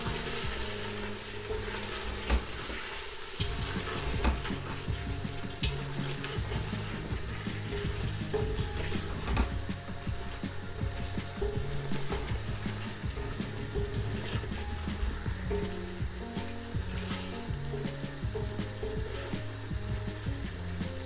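Chicken biryani being stirred in a cooking pot, a steady close sizzle with scraping and clattering stir noises running continuously throughout, no talking.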